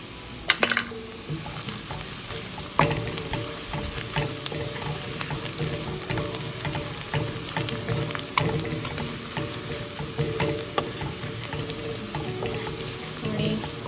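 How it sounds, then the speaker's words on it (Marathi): Onions sautéing with turmeric and homemade Agri masala in oil in a pan, a steady close sizzle with stirring scrapes and occasional utensil clinks throughout, no talk. "कांदा आपण जरा परतवून घेऊया."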